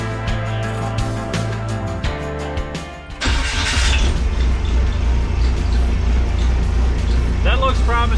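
A diesel engine cranks briefly, then catches at about three seconds and settles into a steady, loud, close idle that fills the rest of the recording.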